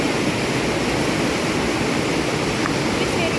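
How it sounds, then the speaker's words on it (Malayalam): Waterfall at Vilangad with water pouring steadily in a dense, unbroken roar that stays loud and even throughout, heard up close with no talk over it. "നല്ല അടിപൊളി വെള്ളച്ചാട്ടാണ്"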